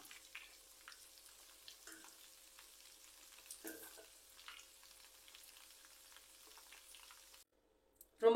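Meal maker and white peas vadai fry in hot oil as the bubbling settles, giving faint, scattered crackles and light sizzling pops, followed by a brief louder clatter at the very end.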